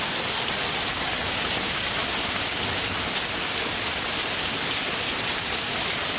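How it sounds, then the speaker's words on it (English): Heavy rain pours down outdoors during a severe thunderstorm, a loud, unbroken roaring hiss that holds steady throughout with no voices. "it is raining hard out here"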